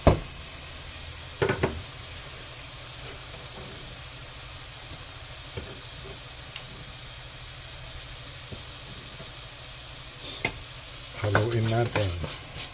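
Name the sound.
stirring chicken and carrots sizzling in pan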